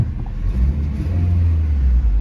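A donated car's engine idles and revs with a steady low rumble while being parked in mud, running smoothly and close by, with no talk over it.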